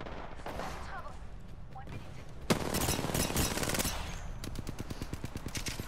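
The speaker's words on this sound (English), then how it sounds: "he's shooting at me now" Rapid automatic gunfire in Apex Legends during a squad firefight, with bursts of shots near and loud, ending in a fast steady rattle.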